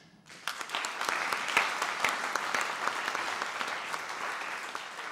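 A crowd at a folk dance festival performance breaks into applause after a short quiet moment, steady enthusiastic clapping that carries on to the end.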